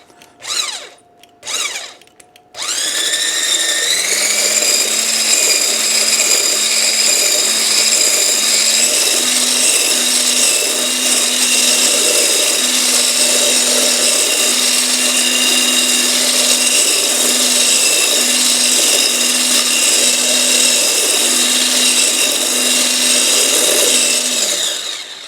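An electric hand mixer whisks cream in a kitchen: a steady, loud motor whine with a constant pitch that runs continuously for over twenty seconds, preceded by a couple of short clicks.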